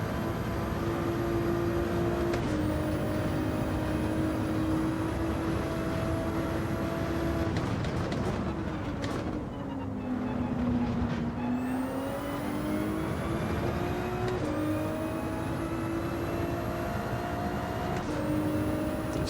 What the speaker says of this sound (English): The car drives very, very well.